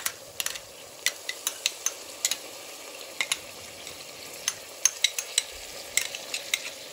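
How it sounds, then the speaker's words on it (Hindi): Mutton being fried with yogurt for shahi haleem, a spoon scraping and stirring in the pot with a steady low sizzle beneath, the clicks arriving in an irregular run throughout, close and moderately loud with no talk. "योगर्ट को ऐड करके भी आपने अच्छी तरीके से इसे भूनना है।"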